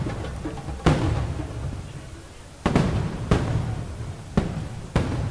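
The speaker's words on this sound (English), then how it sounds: "It was only fitting that the night ended with a spectacular fireworks show." Fireworks burst during a night show, giving five sharp booms at uneven intervals with crackling decay over a continuous crowd murmur.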